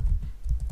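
A short burst of computer keyboard keystrokes while code is typed, with soft, dull taps following one another quickly and close by.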